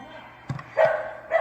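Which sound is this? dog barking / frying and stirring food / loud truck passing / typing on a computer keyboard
dog barking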